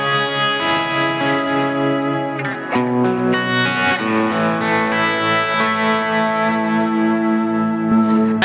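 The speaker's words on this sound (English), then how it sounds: "And now with the PRS, which has much more traditional style humbuckers." Electric guitar with PRS traditional style humbuckers, played through chorus and echo effects, rings out in loud, thick sustained chords and single notes that change a few times and hold steady throughout.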